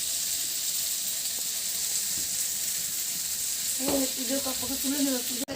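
Okra curry frying in a pan makes a steady, close hiss of sizzling oil with soft stirring, and a voice speaks briefly over it near the end.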